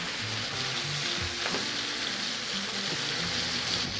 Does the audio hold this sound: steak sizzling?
yes